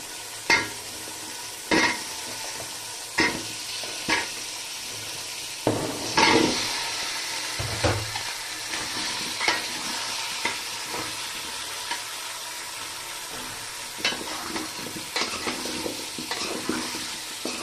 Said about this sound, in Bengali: মশলা কষানো হয়ে গেছে, এখন এর মধ্যে আলু ছেড়ে দিয়ে ভালো করে কষাবো।